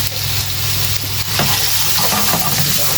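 Pre-cooked onion, fried with salt and turmeric, drops into a sizzling naga chicken curry, giving a loud, steady hiss with a burst of crackle and stirring as it lands, with no voices.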